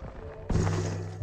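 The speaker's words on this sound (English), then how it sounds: "Yeah, that was the cannon." A cannon fires in Zelda: Tears of the Kingdom, a single sudden heavy boom followed by a sustained low humming rumble that carries on to the end, no voices.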